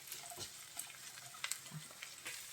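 Onions fry in a little oil in a pan, a faint, close crackle with soft pops and stirring, and no talking.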